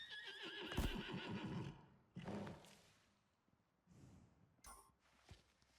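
A horse in the survival video game Icarus neighs in a long, loud whinny, followed by softer snorts and breathy sounds with a few scattered hoof thuds.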